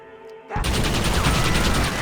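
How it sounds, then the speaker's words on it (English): After a brief quiet start, a dense burst of rapid video game gunfire from Red Dead Redemption erupts and continues loudly, like a sustained volley of automatic shots. "Another gunshot! Shoot!"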